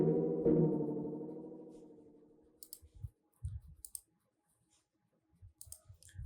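Mouse clicks on a computer while downloading software on Windows 11: a fading tone comes first, then two small clusters of soft, close clicks separated by silence.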